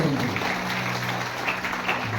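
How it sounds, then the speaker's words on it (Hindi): A church congregation claps together during a sermon, a continuous, fairly loud wash of hand claps from a large group that fills the whole moment. "ताली बजाकर बोल देना।"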